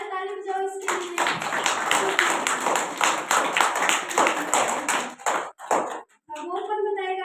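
Children clap together in a classroom in a steady burst of hand claps lasting several seconds, with a teacher's voice speaking before and after.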